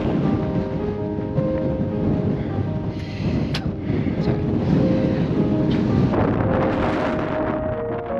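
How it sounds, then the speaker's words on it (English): Strong wind buffets the microphone outdoors in Iceland at a vast quarry-like canyon, a loud, continuous low roar with gusty swells and no speech. "So windy out here."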